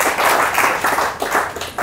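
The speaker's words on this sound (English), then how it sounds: "all of us give him a round of applause" A room full of people applauding at a talk on solar energy, dense steady clapping up close with no talking.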